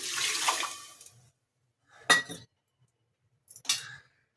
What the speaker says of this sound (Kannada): ಈಗ 1 ಲೀಟ್ರಷ್ಟು ನೀರನ್ನ ಸೇರಿಸ್ಕೊಳ್ಳಿ.